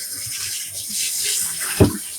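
Water runs from a tap into a kitchen sink as an item is rinsed off, a steady wash of splashing with a brief louder gush near the end, no talking.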